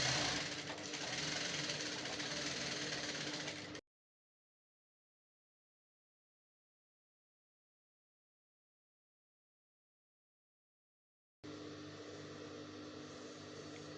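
A sewing machine stitches a shirt collar in two steady runs, one at the start and one at the end, with a long stretch of silence between them.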